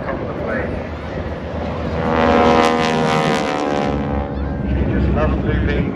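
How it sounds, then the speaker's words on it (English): A propeller aircraft flies aerobatics at the Swansea Air Show with a wing walker standing on top, its engine drone swelling and steady under crowd noise and wind on the microphone. "doing aerobatics standing on the top of the plane"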